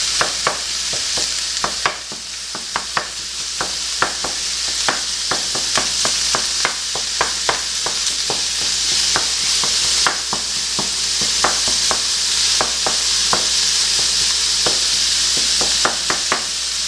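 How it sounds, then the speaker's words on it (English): Lean 10-20 ground beef fries in a pan with a steady hiss, while a utensil scrapes and taps against the pan in a quick, regular stirring rhythm heard up close. "I'm going to let that fry up a little bit"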